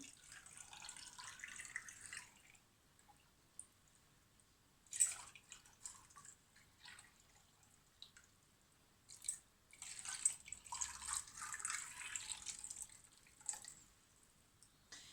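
Cold water poured from a tap into glass jars of fresh green plums being preserved: soft, faint trickling and dripping with a few brighter splashes, growing fuller toward the end, with no voices.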